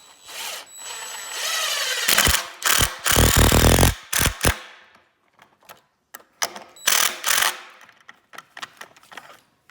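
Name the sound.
drill driver driving screws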